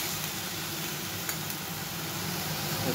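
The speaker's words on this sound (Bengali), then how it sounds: "এটাও একটু ফ্রাই করে নেব, হালকা করে ফ্রাই করে নেব।" Ingredients lightly frying in a pan with water, steady soft sizzle and crackle throughout, close and continuous with no voices.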